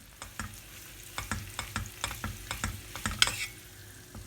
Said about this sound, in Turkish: Tereyağımla birlikte yaklaşık 200 gram eriştelerimi boşalttım.